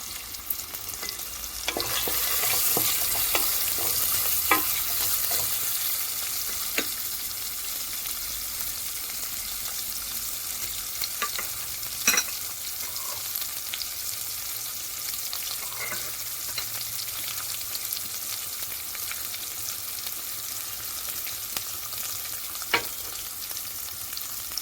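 Onions and then cashews frying in a pan for a mint pudina rice, a steady close sizzle with scattered stirring clicks and scrapes throughout, louder in the opening seconds, no one talking.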